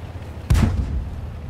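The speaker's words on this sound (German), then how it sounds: "Habe ich gerade einen Schuss gehört?" A single heavy tank cannon blast in World of Tanks booms out with a deep, rumbling thud that quickly fades, set against low background noise.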